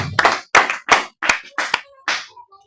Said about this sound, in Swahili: Pigia Bwana makofi mazuri.